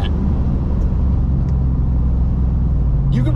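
A supercharged Roush Nitemare F150 pickup accelerates hard, its engine a loud, steady low rumble that holds throughout with no talk over it.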